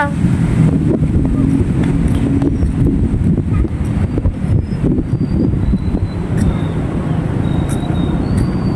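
Steady wind rumbles against the microphone with a low roar, joined by faint background voices and distant traffic-like noise throughout.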